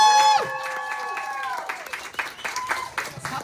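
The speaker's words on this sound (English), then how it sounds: "Give her another round of applause" Applause from a crowd at a live event, sharp claps scattered and bursty, building after a bright tonal sound fades at the start.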